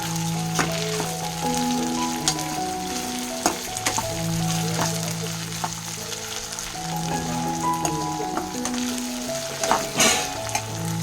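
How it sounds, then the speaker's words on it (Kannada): Oil sizzles and crackles steadily as food deep-fries, with occasional sharper pops and a soft musical tune playing in the background. "ಡೀಪ್ ಫ್ರೈ ಮಾಡ್ತೀವಿ."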